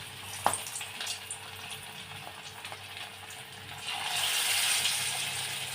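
Chicken pakora fries in moderately hot oil in a wok, a soft, steady bubbling hiss close by that swells louder toward the end, with no talking.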